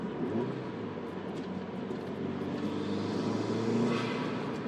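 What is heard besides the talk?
turbo sports car engine after dropping a gear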